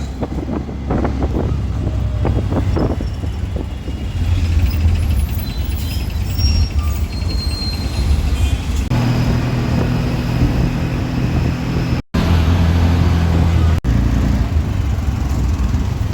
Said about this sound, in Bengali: অটোতে যাচ্ছি এখন টার্মিনাল থেকে।